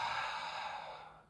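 One long, airy exhale during an exercise session, close and steady before tailing off, with no talking over it.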